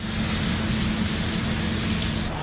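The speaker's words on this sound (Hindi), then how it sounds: "लाहौर में खूब बारिश हुई।" Heavy rain pours down in Lahore, a dense, unbroken hiss of drops hammering surfaces, loud and steady throughout.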